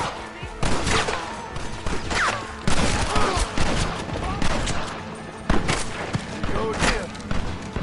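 A Gatling gun fires in Red Dead during a push into a village, with loud rapid bursts and thuds that come in several waves, while voices shout over the battle.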